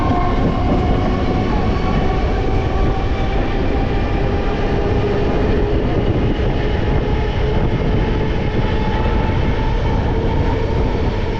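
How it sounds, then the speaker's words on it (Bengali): A crowded Sealdah–Namkhana suburban local train runs steadily, with a loud continuous rumble of wheels and carriages and a faint humming tone throughout. Nobody speaks. "তো অবশেষে ট্রেন ছাড়লো।"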